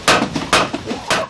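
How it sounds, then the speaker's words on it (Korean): A water-powered trip hammer in a traditional Iberian forge strikes three times at an even pace, each blow a loud, close metallic bang with ringing between hits. "망치가 일정한 속도로 움직이는데요."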